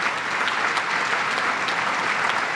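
Steady audience applause fills a city grand opening ceremony for a new protein company headquarters, dense and sustained throughout at a fairly loud level.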